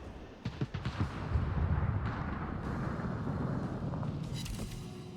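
Naval guns fire in a warship video game, with several quick booms at the start followed by a sustained, rumbling roar that holds steady and close.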